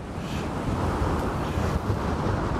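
Strong wind buffets the microphone while riding a Ninebot One E+ electric unicycle outdoors, a loud, continuous roaring rumble with no break.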